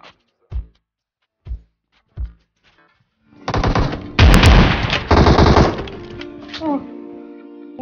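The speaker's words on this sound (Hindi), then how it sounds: "वाह क्या शॉटगन चला रहा।" Shotgun fire in the mobile battle royale game PUBG Mobile, several sharp separate blasts spaced apart, followed by a dense, loud burst of rapid gunfire with ringing tails.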